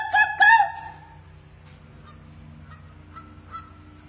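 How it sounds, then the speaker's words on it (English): Birds call back with two loud honking, goose-like calls right at the start, then only faint, scattered answers drift in from farther off against a quiet background. "Today's a great day for calling the birds."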